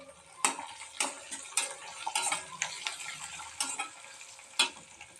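Urad dal and curry leaves crackle in hot oil, a bright close-up sizzle broken by regular sharp spatula taps and scrapes against the pan, with no talking over it.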